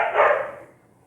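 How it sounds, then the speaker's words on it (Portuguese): Dogs bark and scuffle in a fight upstairs, one loud rough burst of barking that quickly fades away, heard with no speech. "Os cachorros estão lá em cima brigando."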